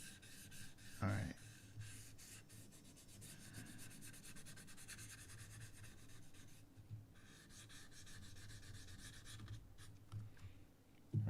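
A model car body for a custom Bel Air build is rubbed with 400 grit sandpaper in continuous close, scratchy back-and-forth strokes. The sanding is fairly quiet with a few louder bumps.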